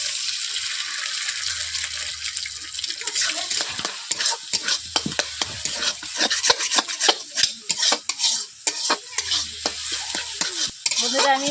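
Eggs frying in hot oil in a wok for street-style egg chowmein, a steady close sizzle broken by repeated scraping and stirring strokes that grow busier over time.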